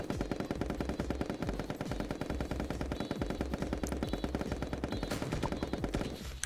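Rapid, steady gunfire in the multiplayer video game Pummel Party, including a sniper rifle shot, a dense run of repeated shots filling the whole stretch at a loud, even level with no clear voices.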